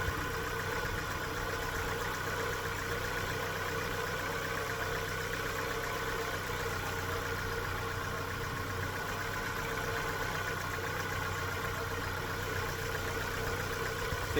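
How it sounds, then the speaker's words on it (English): A car engine idling after an oil change, a faint, steady low hum and rumble that holds evenly throughout with no voices. "I've got the car idling just for a little bit now, just to let the oil circulate around it."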